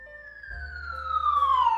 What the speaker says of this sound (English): You can put like an ambulance is approaching.